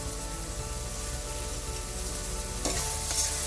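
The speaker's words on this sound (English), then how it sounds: "We're going to keep frying our onions." Onions frying in a pan for a trout curry, a dense continuous sizzle, close and even, with a slight rise in crackle near the end and no talking.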